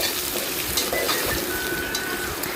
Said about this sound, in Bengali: পেঁয়াজ কুচি এখন আবারও নেড়ে চেড়ে নিব।